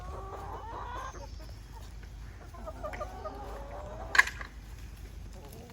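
Soft clucking and murmuring from a group of backyard chickens, with one brief sharper squawk, set against a quiet outdoor background.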